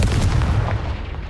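A Confringo blasting spell cast in the wizarding game Hogwarts Legacy gives a heavy, booming blast with a low rumble that fades out over about a second.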